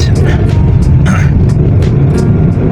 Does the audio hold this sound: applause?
no